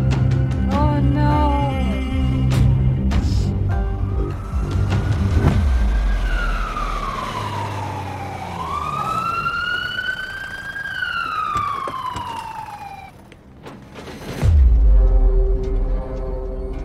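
An ambulance siren wails loud and close, its rising and falling tones sweeping up and down over roughly ten seconds among other sounds, then cutting off as a low rumble takes over.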